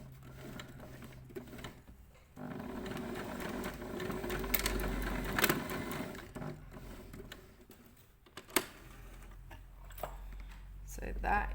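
A sewing machine stitches in the ditch along a camisole seam in quiet, uneven bursts, slowing and stopping between runs, with a few clicks and handling knocks close by.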